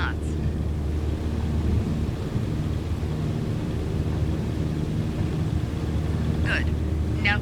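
Steady engine drone of a light aircraft at full power rolling down the runway in Microsoft Flight Simulator, a constant low hum throughout, with a voice talking over it.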